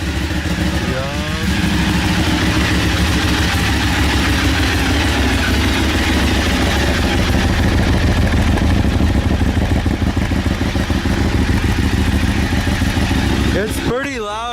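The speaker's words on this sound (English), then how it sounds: "That is the Ducati noise." A stock Ducati motorcycle idles loud and close in neutral, a steady chugging beat with a brief vocal exclamation near the start and another short sound right at the end.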